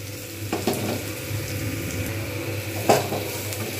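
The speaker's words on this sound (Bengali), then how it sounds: "ডালটাকে আমি বেশ ভালো করে ভেজে নেবো" Moong dal frying in a pan with green chillies, a steady soft sizzle with two sharp stirring scrapes, close and alone without any talk.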